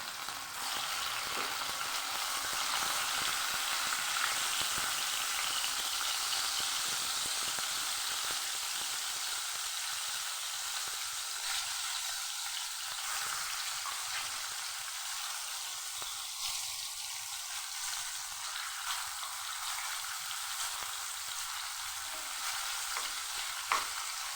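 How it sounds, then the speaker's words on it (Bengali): Hilsa fish fries lightly in a pan with a continuous, even hiss of hot oil, close and steady throughout with faint occasional stirring and no voices. "মাছটাকে হালকাভাবে ভেজে নেব"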